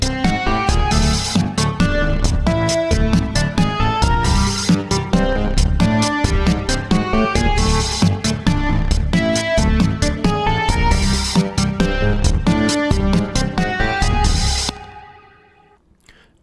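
Full indie game song with chorus, a dense driving mix in 15/8 time with steady pulsing beats and layered instruments playing loud and continuously, then cutting off abruptly and leaving a short fading tail.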